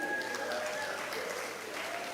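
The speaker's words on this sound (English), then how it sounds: "A round of applause" Short burst of audience applause at a school awards ceremony, steady hand clapping heard faint and at some distance, with a few voices over it.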